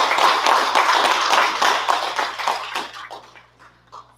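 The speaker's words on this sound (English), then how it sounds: "can we give a round of applause for this beautiful?" Audience clapping for a speaker at an event, a lively round of applause that thins into scattered individual claps and fades out near the end.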